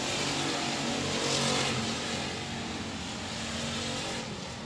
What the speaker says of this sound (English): Still side by side, battling for the lead in your heat race number 1.